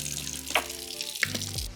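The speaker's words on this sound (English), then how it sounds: "wash our hands" Water runs from a kitchen tap as hands are washed before cooking a peach and pear cobbler, a steady splashing flow with a couple of brief clinks and a rising tone as it ends.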